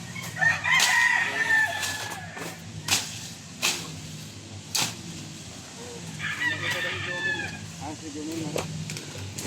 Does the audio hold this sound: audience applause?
no